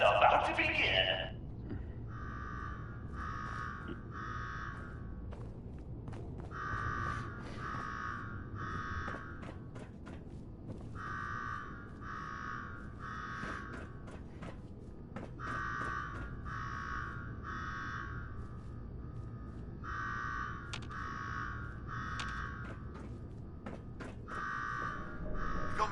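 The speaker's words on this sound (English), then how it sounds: "Now go shut off that damn alarm." Repeating electronic alarm in Fallout 4's Nuka-World, sounding in steady bursts of rapid beeping pulses with short gaps between groups, continuing loud throughout over a low background hum with occasional clanks.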